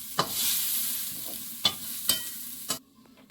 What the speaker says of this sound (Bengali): কড়াইয়ে একটু তেল দিয়েছি এইবারে দেবো একটু গোটা জিরে